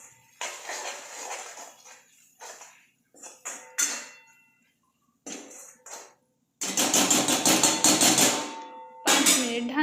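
Metal spoon clattering and scraping in a pot while turmeric and pav bhaji masala are stirred into a tempering, in irregular bursts of clinks and scrapes separated by quiet gaps, close and sharp.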